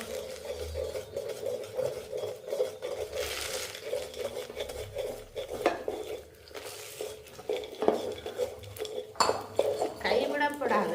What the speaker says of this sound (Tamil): கச்சான் அதுக்குள்ள போட்டு கிண்டுவோம்